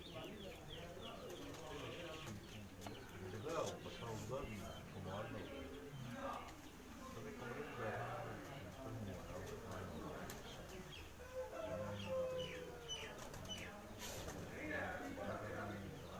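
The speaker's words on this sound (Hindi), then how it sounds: "कबूतर उड़ के आए ने जी, इन्हां नूं खुराक दी जा रही है जी।" Pigeons flying in to be fed on a rooftop coo softly and flap their wings amid faint chirps, while someone talks continuously over the birds throughout.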